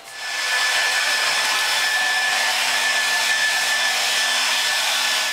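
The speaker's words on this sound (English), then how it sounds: "you may want to dry her with a blow dryer." A hair dryer runs steadily for several seconds while drying a freshly washed dog, giving a loud, continuous blowing whoosh with a faint high whine and no talking.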